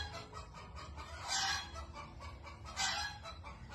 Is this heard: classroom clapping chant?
no